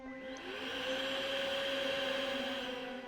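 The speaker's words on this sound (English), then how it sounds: "She pulled out the vacuum cleaner." A household vacuum cleaner runs steadily with a droning motor hum and a whine that rises as it spins up, fairly quiet and alone.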